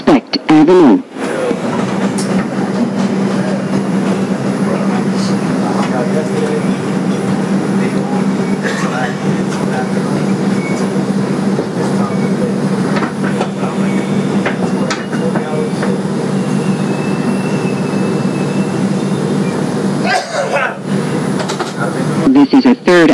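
A 2001 Bombardier subway car on the IRT White Plains Road 2 local train rumbles along at steady speed, loud continuous rail roar with clacks and bumps, a squeal near the end, and faint voices at the start.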